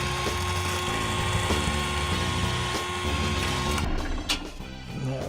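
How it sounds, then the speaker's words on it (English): A drill press bores into a steel knife handle for a 52100 karambit in a workshop, a steady loud whirring grind with rhythmic pulses, easing off near the end with a brief clunk. "let's get to the drill press"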